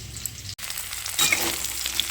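Vegetable stalks (data) frying in oil in a pan, a dense close hiss of sizzling with a brief dropout and a slight swell partway through, and no one speaking.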